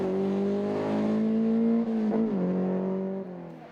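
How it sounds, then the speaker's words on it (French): Peugeot 205 race car at a hill climb in Houyet, its engine holding a strong steady drone, dipping briefly as it shifts, then pulling again before fading slightly. "Mario Hermans qui remettait le couvert avec sa Peugeot 205"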